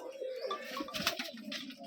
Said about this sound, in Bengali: ছোটো ভাইয়ের কিছু কবুতর দেখাবো আপনাদেরকে আজকে